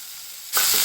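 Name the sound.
onions and green chillies frying in a pan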